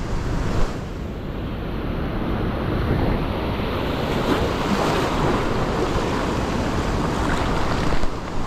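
Rough sea waves on the ocean wash and roar continuously, loud and close, mixed with heavy wind buffeting the microphone, with no voices.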